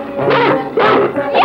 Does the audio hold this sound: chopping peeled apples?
no